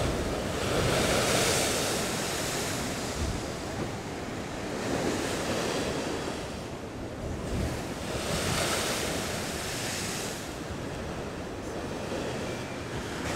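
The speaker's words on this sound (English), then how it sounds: "I think these are the biggest waves I've ever seen." Heavy surf crashing in repeated swells at Bridlington, Yorkshire, a continuous roar of rough sea with wind buffeting the microphone throughout.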